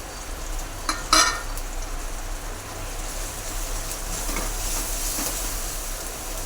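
Chilli powder, turmeric, spices and garlic fry in hot oil for a Gujarati shaak, giving a steady close sizzle. A spoon scrapes briefly through the pan as it is stirred.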